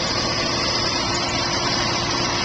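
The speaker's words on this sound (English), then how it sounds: "The engine running as I speak," Steady idle from a 1966 Ford Thunderbird's original 390 cubic inch V8, automatic, heard up close as an unbroken, even drone with a faint whine and no talking.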